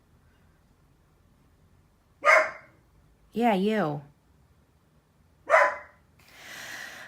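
A pet dog named Noodles barks at a window indoors, giving a few separate sharp barks spaced a couple of seconds apart with a longer whining yelp between them, fairly close and loud, with brief talk nearby.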